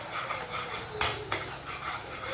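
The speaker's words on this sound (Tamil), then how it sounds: "இப்போவே நல்லா கொதிக்கிது பாருங்க. கொஞ்சம் நல்லா கிண்டி விட்டுட்டே வரணும்." A utensil scrapes and stirs boiling pori halwa around a pot in repeated strokes, with a couple of sharper metallic knocks over a constant low hiss.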